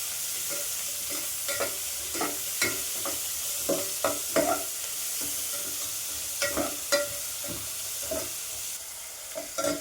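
Onions frying in a pan over medium heat give a continuous sizzle, with regular sharp spatula scrapes and taps as they are stirred, close and clear, with no talking.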